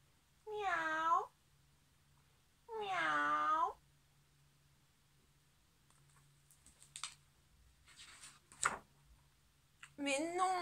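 A voice imitates a cat, giving two drawn-out meows in a children's story about a puppy, followed by a quiet stretch of faint clicks and shuffles and a third meow-like call at the end.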